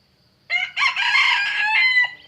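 A rooster kept by neighbours across the road crows once, loud and fairly near, a drawn-out cock-a-doodle-doo lasting about a second and a half in an otherwise quiet setting.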